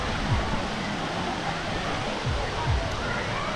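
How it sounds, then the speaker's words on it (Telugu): Gandahati waterfall, water falling and rushing steadily as a broad continuous roar heard from a viewpoint above, with a few faint low knocks; voices come and go under it. "ఇది వాటర్ అలా కిందకు పడుతూ ఉంది."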